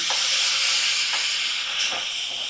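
Sour yogurt sizzles in a hot pan, a loud, steady, close hiss with a few soft stirring scrapes.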